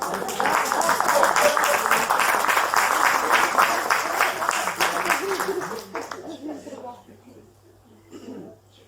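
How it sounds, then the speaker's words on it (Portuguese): Audience clapping at a Portuguese book presentation, a dense burst of applause that holds for several seconds then fades out, leaving scattered murmurs and a cough. "Podem bater um bocadinho de palmas"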